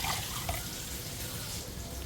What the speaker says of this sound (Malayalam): മിക്സർ ജാറിലേക്ക് 1 കപ്പ് വെള്ളം ചേർക്കാം.